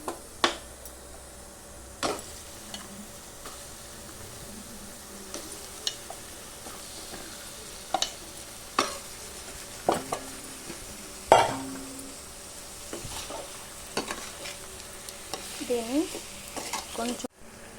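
Fish pieces for a fish curry, seasoned with chilli powder and salt, frying in a pan while being stirred, with a soft steady sizzle broken by repeated sharp scrapes and knocks of a utensil against the pan.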